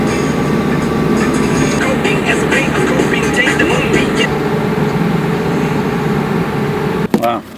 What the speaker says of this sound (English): Wow, traffic in Belgium is intense.